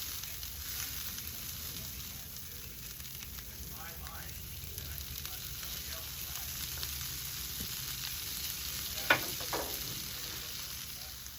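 Cabbage stir fry sizzling steadily on a Blackstone griddle, a constant crackling hiss throughout with a few soft clinks of stirring and scraping, and a brief sharper knock near the end.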